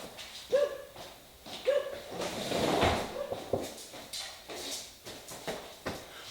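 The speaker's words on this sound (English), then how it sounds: "there's a neighbor's dog was barking" A neighbor's dog barks a few times from outside at some distance, short sharp yaps spread across several seconds, mixed with faint household clatter and knocks nearby.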